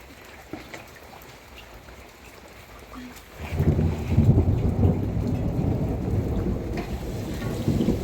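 Rain and thunder in a storm: a quiet stretch gives way to a deep rumbling roll of thunder and heavy, steady downpour that fills the rest of the clip, loud and close.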